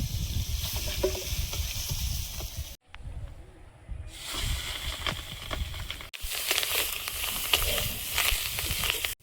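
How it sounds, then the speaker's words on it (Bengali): Sea fish shallow-frying in a pan gives a loud, continuous close sizzle and hiss, broken by two short cuts, with no talking. "মাছগুলো ভাজা হয়েছে, তুলে নেব।"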